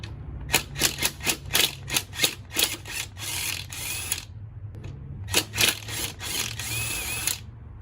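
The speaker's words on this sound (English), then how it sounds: "I got power tools now, so we're going to use power tools." A power tool whirs in short, rapid bursts while removing a wrecked moped's front plate, about a dozen quick rattling pulses followed by longer spins, close by with no talking.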